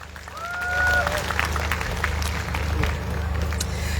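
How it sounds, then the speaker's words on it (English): Audience at a World Environment Day celebration in Papua New Guinea applauding to welcome a speaker, a moderate swell of clapping with crowd murmur and a low hum underneath. "let's welcome her with a bigger round of applause than that"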